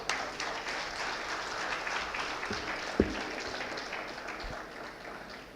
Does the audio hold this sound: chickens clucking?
no